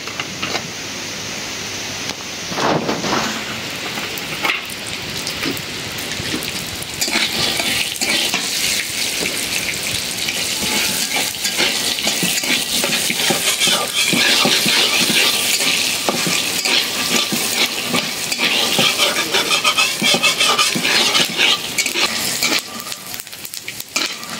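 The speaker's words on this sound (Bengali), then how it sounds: "এখন আমি যে ভাজবো বাদাম, বাদামটা একটু তেল দিয়ে দিই, সয়াবিন তেল।" Peanuts fry in soybean oil in a pan, a loud continuous sizzle with scraping stirring and light utensil clatter throughout, building in intensity after the first few seconds.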